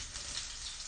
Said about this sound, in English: Ton of garlic going in to the oil right now.